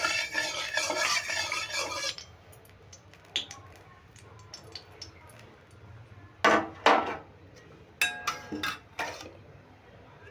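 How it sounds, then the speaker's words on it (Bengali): A utensil scrapes and clinks in a pan as hot oil is spread around it before eggs go in for egg tadka. A dense rustle opens the clip, then sparse sharp metallic taps and scrapes follow, close and fairly loud. "দেখো তেলটা গরম হয়ে গেছে তেলটা আমি একটু ছড়িয়ে নিচ্ছি"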